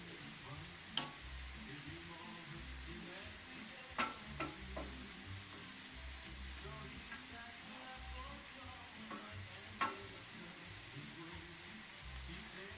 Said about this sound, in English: And then add your onions. Stir this around a little bit.